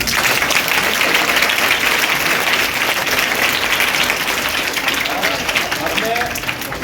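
An audience claps together at a student placement celebration at an academy, loud, dense and continuous applause that holds steady throughout, with voices mixed faintly into the crowd noise.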